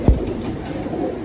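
A pigeon gives a close, clear coo, a single low throaty call over soft background noise.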